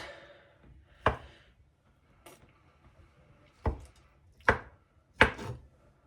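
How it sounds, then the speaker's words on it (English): Soft pears are sliced with a knife on a cutting board, giving five sharp separate knocks spaced irregularly across quiet pauses, close and crisp. "now we're just going to slice them up, like each pear into like 3 or 4 pieces"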